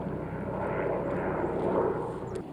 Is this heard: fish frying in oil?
no